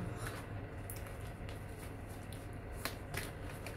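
Tarot cards shuffled and cut by hand, a steady soft riffling patter with a few sharper flicks and taps, close and quiet, with no talking.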